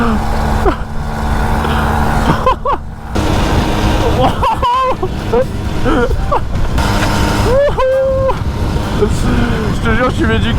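Mobylette moped engine from 1957 revving in sharp bursts, loud and close, with rising and falling whine over a sputtering drone while people talk excitedly.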